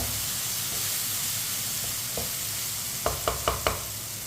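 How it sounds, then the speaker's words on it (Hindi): Tomatoes frying in a pan over a raised stove flame, a steady soft sizzle with a few sharp scraping stirs near the end, close and without talk. "एक मिनट के लिए मैंने टमाटर को भी पका लिया है।"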